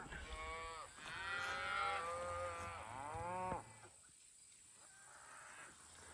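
Cows and a calf mooing on a farm during a hot day, two long drawn-out moos close by, then a fainter lowing call after a quieter pause.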